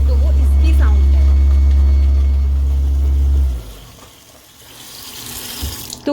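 A kitchen sink garbage disposal in a US house grinds loudly with tap water running, a heavy low rumble that cuts off after a few seconds, leaving the quieter hiss of running water.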